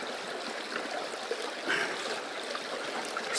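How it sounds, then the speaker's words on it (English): A gold sluice mat being dunked and rinsed in a Wicklow river, with steady close water rushing and trickling throughout and a brief splash partway through. "I dunk in the water."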